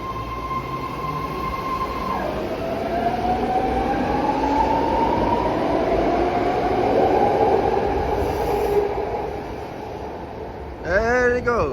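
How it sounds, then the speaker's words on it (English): A six-car BART train departs from platform 2, its motors whining upward as it pulls away. Wheels rumble and clatter loudly nearby, then fade, followed by a brief squeal. "departing 6 car OAK SFDC train, departing platform number 2."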